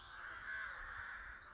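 Crows cawing around a colony of nests along a walking trail, a faint, steady harsh cawing from a distance with no talk.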